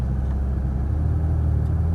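Ferrari F430 engine rumbling low and steady from inside the car as it pulls forward from a stop, a continuous close drone with no talk.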